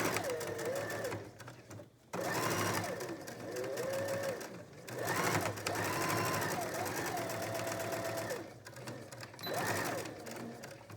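A sewing machine stitches a half-inch seam on a fabric bonnet mask, its close mechanical whir running in steady stretches that stop and start, with a voice talking over it throughout.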